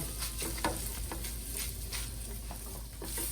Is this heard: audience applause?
no